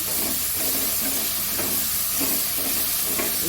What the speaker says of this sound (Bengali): মশলাটা পুরো তেল ছেড়ে দিয়েছে, এবার জল দিয়ে দেবো।